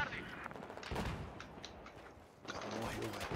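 Saiga 12K shotgun fire in Battlefield 4, with repeated heavy blasts and battle noise at a moderate level and no talk.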